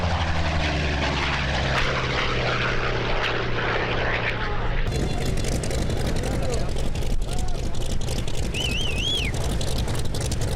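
A Hawker Sea Fury's piston engine roars through a photo pass at an air show, a loud propeller drone that shifts in pitch as it passes, with an announcer talking over it.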